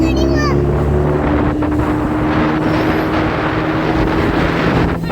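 A boat setting off on the sea at Shivrajpur Blue Flag Beach, a loud, close, steady engine drone and water rush with heavy wind buffeting the microphone throughout.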